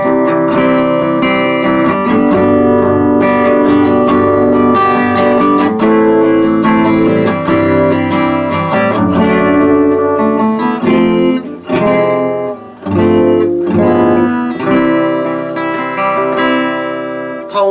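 Acoustic guitar chords strummed with a pick, bright and loud up close, with a steady rhythm and a few brief pauses between strums, played alone without talking.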